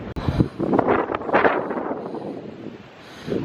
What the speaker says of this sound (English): it's so windy out there